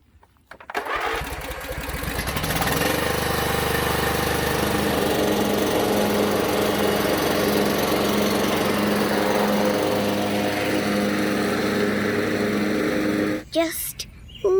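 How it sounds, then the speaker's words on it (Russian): A lawn mower starts and then runs at a steady, loud drone for about ten seconds before cutting out near the end. "But this lawnmower will help me for sure."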